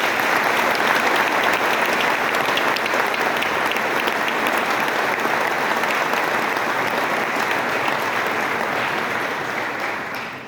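Audience at a military conference keynote in Wiesbaden applauding General Grynkewich, a full, sustained round of clapping from a large crowd that fades slightly at the close.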